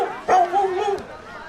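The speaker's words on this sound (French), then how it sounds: "C'est le chien de Pierre" Dog barks once, a short sharp bark followed by a drawn-out whining, yelping tone, close and fairly loud with no talk over it.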